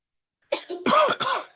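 A few harsh coughs in quick succession during a city council meeting, close and fairly loud, after a moment of silence.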